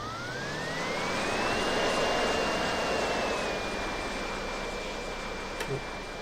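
In a flight simulator game, an aircraft engine roars loudly during a short takeoff, its tone rising steadily in pitch and then holding level as the sustained drone continues, alone without talk.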